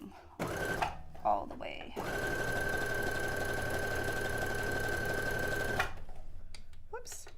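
A sewing machine stitching fabric for a replica of Princess Leia's white dress from Star Wars, a steady mechanical whir with a high hum running for several seconds between short bursts, with someone speaking before and after.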